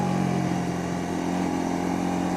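A Honda CL250 motorcycle engine running steadily during a test ride in second gear, a loud continuous mid-pitched drone with a low hum and wind-like rush throughout, and no talking.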